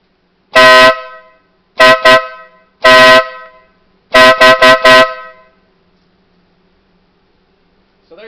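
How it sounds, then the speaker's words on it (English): A Wolo Bad Boy horn fitted to a Toyota FJ Cruiser blares loud and close in a pattern of one long blast, a quick double, another long blast, then four rapid pulses, with silence between. "I will let you hear the horn"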